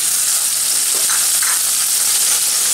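Tomato hitting hot oil with softened onion in a pan for masala pav gives a loud, continuous close-up sizzle that holds steady throughout.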